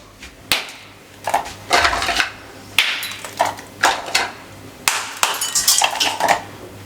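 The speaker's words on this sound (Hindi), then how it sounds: "बर्फ़ के क्यूब शामिल कर दें।" Ice cubes being added to a melon milkshake, a series of close clinks, knocks and rattles at uneven intervals, fairly loud, with no talking.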